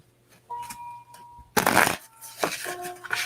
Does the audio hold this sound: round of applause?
no